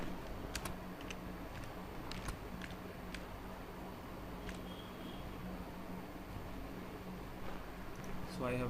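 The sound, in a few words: typing a file name on a computer keyboard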